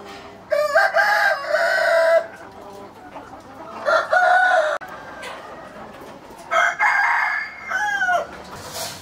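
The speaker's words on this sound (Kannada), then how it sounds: "ಒರಿಜಿನಲ್ ನಾಟಿ ಕೋಳಿ" Native country chickens cluck and crow nearby in three loud bursts with quieter gaps between them, with no talk.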